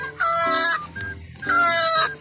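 Two loud, drawn-out squawking calls from a red chicken caught in a trap close by, separated by a short pause, harsh and agitated.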